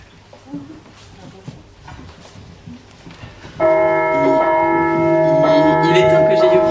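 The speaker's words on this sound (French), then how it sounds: "les cloches sonnent à Guled" Church bells in a French village ring out loud and sustained after a few seconds of quiet background murmur, their overlapping tones filling the rest of the clip.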